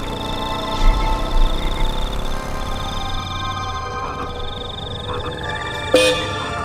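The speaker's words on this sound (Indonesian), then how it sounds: "Aku pun membunyikan klakson motorku." A motorcycle horn toots in short bursts beside rice fields at night, with a sharper honk near the end, over a steady hum of outdoor background noise.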